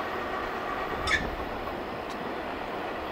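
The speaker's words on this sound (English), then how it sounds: "Big giant double stack train right there." A Norfolk Southern double stack freight train rolls past at steady distance, a continuous broad rumble with a brief brighter wheel squeal or clank near the middle and a fainter one later.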